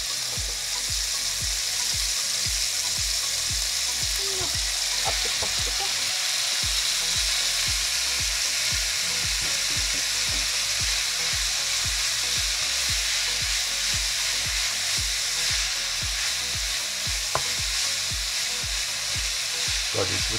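Chopped kale sweating in a hot pan, a loud continuous sizzle and crackle with frequent small pops, steady for the whole stretch and unaccompanied by talk.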